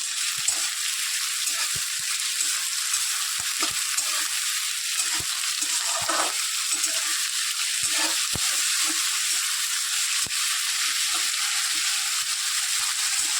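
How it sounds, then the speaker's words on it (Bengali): Chopped onions sizzle and fry in hot oil in a home kitchen, a steady bright crackle that continues throughout, with occasional stirring clicks and no talking. "যে গরম হয়ে এলো, সেই আমি পেঁয়াজ কুচিগুলো দিয়ে দিলাম।"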